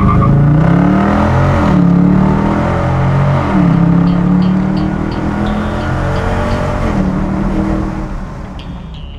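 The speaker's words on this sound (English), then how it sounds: "So this is the car." A car engine in Dubai revs close and loud, its pitch climbing and dropping through a couple of throttle swells before settling into a steady idle-like drone.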